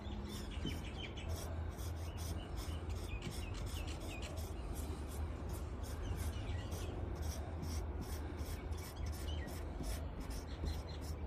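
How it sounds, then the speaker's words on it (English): A cloth lightly rubs excess wood touch-up colour off a wooden side table, giving a soft, steady, continuous wiping hiss with faint repeated strokes and no speech. "just wiping the excess off just lightly"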